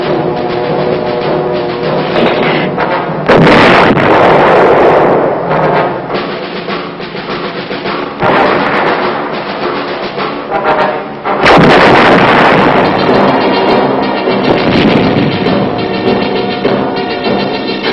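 Artillery firing in Vietnam, heavy booming blasts erupting loudly at intervals, with two especially powerful shots followed by long rumbling decay and continuous battlefield roar between them.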